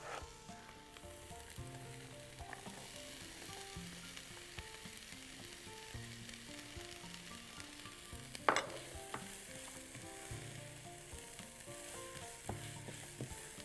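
Onion and pepper sauté in a pan with a quiet, continuous sizzle and frequent stirring scrapes. One brief sharp clink comes about midway, and the frying continues without any talk.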